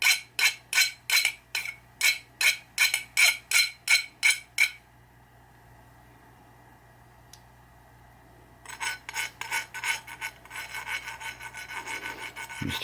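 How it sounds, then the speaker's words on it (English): A very fine file rasps across a part during a 1976 Williams Grand Prix pinball flipper rebuild, with a run of about a dozen even, rhythmic close strokes, a quiet pause, then quicker, lighter filing strokes. "This is a very fine file."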